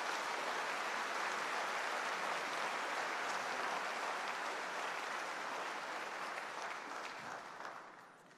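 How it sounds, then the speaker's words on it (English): Audience at a MacEwan University convocation ceremony applauding a band, a broad sustained clapping from a large crowd that holds steady and then fades toward the end, fairly distant. "Let's give them a big round of applause for their music this morning"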